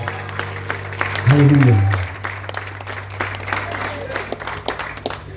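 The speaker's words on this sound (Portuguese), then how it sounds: "aplauda o Senhor" A church congregation at a worship service claps for the Lord while a voice calls out over a steady hum, the clapping a soft, continuous patter beneath the speaking.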